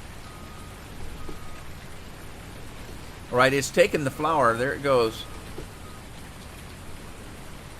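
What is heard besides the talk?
rain in the video game Farming Simulator 19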